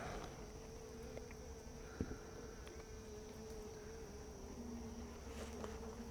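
Honey bees in a small, sparsely populated hive beset by hive beetles give off a faint, steady, continuous hum with a few light knocks and no voices.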